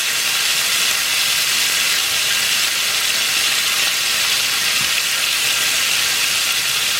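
Shrimp frying in hot oil for Lao pad Thai give off a steady, loud, broadband sizzle and hiss that holds evenly for the whole stretch, with no voices over it.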